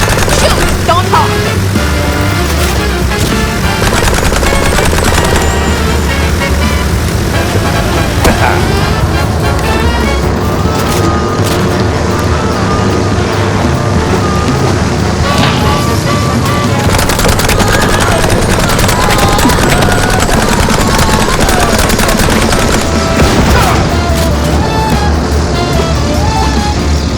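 Rapid gunfire rattles in MOUSE: P.I. For Hire, loud and dense, in near-constant bursts mixed with game music and effects over a long stretch, with voices speaking at times.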